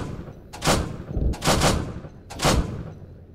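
Three heavy vehicle-mounted cannon shots boom out at roughly one-second intervals in a military simulation video game, each a loud broadband blast with a short decaying tail, the shots standing alone over a low rumbling background.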